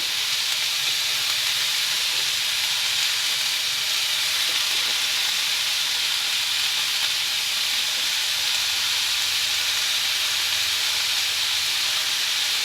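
Spring onion stalks fry in a pan for a curry with dried fish, filling the air with a steady, loud, hissing sizzle that holds even and unbroken throughout, with no voices over it.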